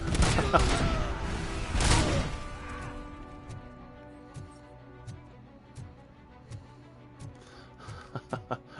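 Enemy grenades explode in a PS5 shooter: a dense cluster of loud, crashing blasts in the first two seconds, then scattered sharper cracks and thuds over a lower rumbling game soundscape.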